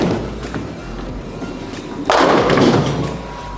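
A bowling ball is thrown down a lane, with a soft thud on release and then a louder rolling rumble building up, heard up close in an alley.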